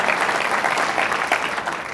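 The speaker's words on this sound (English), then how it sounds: "Let's give them a round of applause for the Tyree Award." Audience applause at the Chicagoland Chamber's 114th annual meeting, a dense, steady roar of many hands clapping throughout the short stretch, with no talking.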